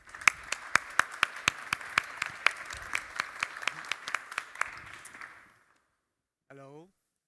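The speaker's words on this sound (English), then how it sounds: "So give a round of applause." A small audience at a modular blockchain summit claps with sharp, distinct, fairly regular hand claps for about five seconds, then falls silent before a brief voice is heard.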